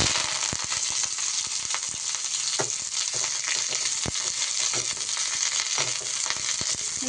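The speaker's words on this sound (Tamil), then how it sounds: "இப்போ நம்ம இந்த கருவேப்பிலை 2 டைமாக போட்டு நம்ம அந்த நெய்யில் போட்டு வறுத்து" Curry leaves crackle and spit in hot ghee in a pan, a continuous close sizzle dotted with sharp pops and occasional stirring clicks.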